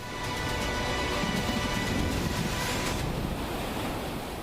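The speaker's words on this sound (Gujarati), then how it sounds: "મંદિર અંદર થઈને પસાર થતો પાણીનો પ્રવાહ જોઈ શકાય છે" Rushing floodwater pours through the Madhavrai temple in Junagadh after heavy rain, a loud, continuous broadband roar with wind noise buffeting the microphone, steady from start to finish.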